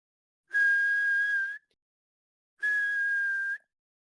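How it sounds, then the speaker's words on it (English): Two long, steady whistle blasts used as a sound effect in a tabletop roleplaying game, each about a second long with a gap between them, clean and isolated against silence. "Off in the distance, you hear more whistles."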